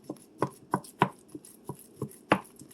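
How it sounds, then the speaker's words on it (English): Frozen beef patties broken apart with a utensil in a pot of sloppy joe soup with bouillon, giving about eight sharp, evenly spaced scraping knocks against the pot, close and moderately loud with no talking. "you're going to go ahead and break up your beef patties"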